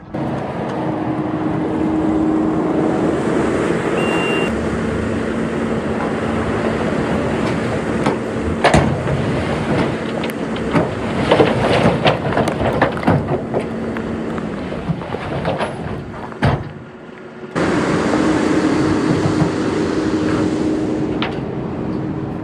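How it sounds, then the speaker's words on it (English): Skid steer tugging a rock-hauling trailer stuck in the dirt, a loud, steady diesel engine rumble with clanks and rattles of metal, a brief drop in the noise near the end, then the engine resumes. "Luckily, Cody's still here with skid steer, so we'll give it a little tug"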